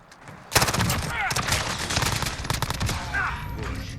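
Colt 9mm SMG fired from the hip in Call of Duty Modern Warfare: rapid, dense bursts of automatic gunfire start abruptly and continue almost without pause, loud and close, with a voice talking faintly underneath.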